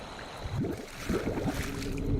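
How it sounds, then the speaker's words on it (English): Bubbles in water in a horror video game, a run of low, gurgling blub sounds rising in quick sweeps, repeated irregularly over a steady watery background. "Someone's blowing bubbles."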